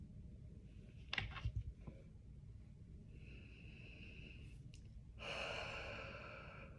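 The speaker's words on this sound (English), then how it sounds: "taking some breaths" Deep cleansing breaths taken to clear the space before a collective tarot reading: a few soft, close inhalations and exhalations, quiet and unhurried, with no talking.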